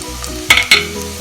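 Sautéed onions fry with turmeric powder in a pan. A low sizzle runs under two sharp stirring scrapes close by, and no one speaks.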